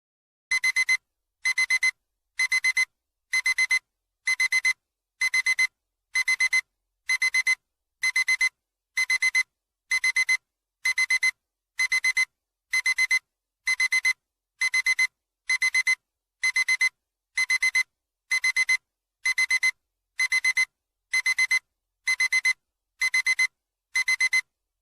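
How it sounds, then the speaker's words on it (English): An alarm clock rings in loud, regular electronic beeping bursts, about twenty of them evenly spaced with short silent gaps between, continuing for nearly half a minute with nothing else audible. "Oh no, it's an alarm clock."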